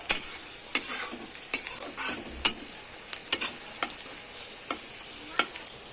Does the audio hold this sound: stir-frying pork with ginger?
yes